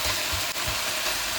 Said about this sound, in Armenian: Մի քիչ է թող տապակվի, ավելացնեմ ու անջատեմ։